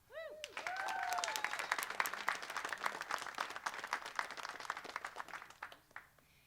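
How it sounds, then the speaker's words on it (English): A crowd at a press conference at San Francisco City Hall breaks into applause, a dense burst of clapping that holds steady for several seconds before tapering off. "can we please give Supervisor Mar another round of applause"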